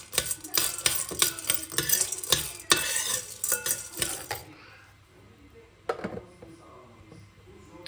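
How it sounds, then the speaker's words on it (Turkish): Corn kernels dropped into oil that is not yet fully hot, a crackling sizzle with sharp spoon and pan clatter for the first four seconds, then a quieter stretch with one more clank. "Yağ da kızmadan attım herhalde mısırları."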